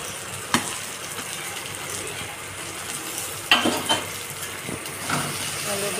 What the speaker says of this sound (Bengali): আলু দিয়ে ভালো করে মশলাটাকে কষিয়ে নেবো।